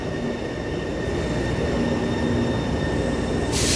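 A Taipei Metro C301 steel-wheel rapid transit train, a two-car set on the Tamsui-Xinyi line, rumbles steadily through Shuanglian station with a constant loud rolling drone and faint tonal hums, and no voices are heard.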